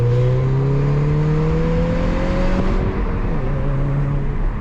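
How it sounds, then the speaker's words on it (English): A JDM Subaru Legacy GT with a twin-scroll turbo EJ20Y engine drones loudly and steadily from inside while driving. Its pitch climbs slowly under acceleration, then settles after a shift, with no talk over it. "we're cruising around in the Legacy tonight. This is a JDM Legacy GT EJ20Y."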